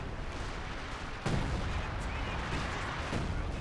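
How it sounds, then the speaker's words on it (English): Major artillery fire in Company of Heroes 2, a sudden heavy blast followed by rumbling impacts and scattered booms over dense battle noise, loud and continuous. "I guess that's major artillery?"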